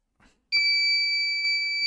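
Buzzer on a homemade temperature and humidity detector sounding its sensor-error alarm: a brief soft knock, then a loud, steady high-pitched electronic tone that holds continuously, close and alone.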